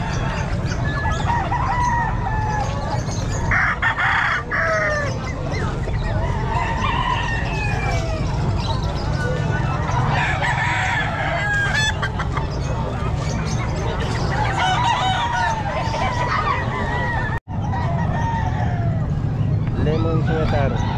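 Lemon Sweater gamefowl roosters crow repeatedly and cluck at a busy pet market in Calumpit, with overlapping calls from several birds amid crowd chatter and nearby voices.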